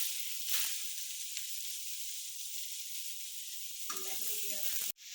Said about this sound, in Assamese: এতিয়া তাতে কাটি ৰখা মূলাখিনি দিম।